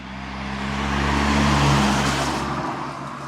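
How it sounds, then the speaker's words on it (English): A Volkswagen Caddy SDi van's non-turbo 68bhp diesel engine ticks over in second gear, a low, steady droning hum with road noise that swells gently and then eases off. "So that's tick over in second gear."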